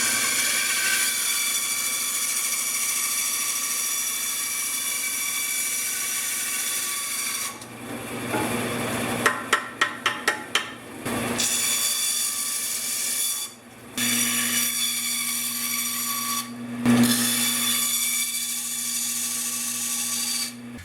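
A bandsaw drones steadily as it cuts through bamboo, with a humming motor tone, short pauses and a few sharp clicks.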